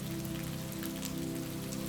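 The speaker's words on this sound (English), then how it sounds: "the echo of raindrops in an ancient courtyard" Rain falls steadily in an ancient monastery courtyard in misty Meteora, Greece, with a dense, even patter of drops and a low hum beneath it.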